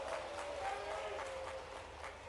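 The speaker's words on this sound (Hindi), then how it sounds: "ताली वाली बजा के बताना।" A crowd claps at a political rally for a bridge inauguration ceremony in Datia, a faint, continuous patter of many hands with a faint sustained tone underneath.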